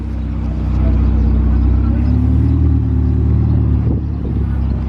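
A Ferrari 488 Pista rumbles past in Monaco with a deep, steady engine drone that swells and holds, mixed with street noise and some nearby talk.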